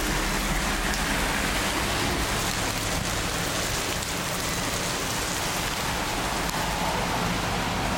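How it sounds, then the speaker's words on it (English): Heavy rain pours down in Montréal, a dense, steady roar of drops hitting surfaces that fills the whole stretch evenly and loudly, with no voices. "it's raining pretty bad too"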